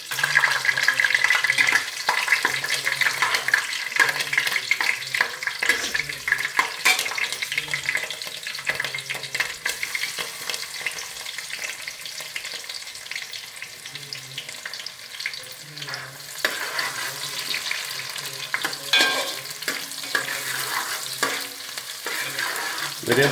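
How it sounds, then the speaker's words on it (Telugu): Thinly sliced onions and split green chilies frying for chicken biryani, with a steady sizzle and scrape of stirring running throughout, close and fairly loud, occasional water-like hiss mixed in. "సన్నగా తరిగి పెట్టుకున్న ఉల్లిపాయలు మరియు 4-5 మిరపకాయ చీలికలు కట్ చేసుకొని ఇందులో వేసుకోవాలి"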